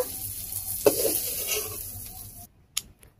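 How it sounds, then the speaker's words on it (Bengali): Shrimp fry in a pan with a sizzling hiss and a few stirring scrapes, the sizzle cutting off abruptly near the end as the pieces are lifted out. "এই যে চিংড়ি মাছ ভাজা হয়ে গেছে, চিংড়ি মাছটা এবার তুলে নেব"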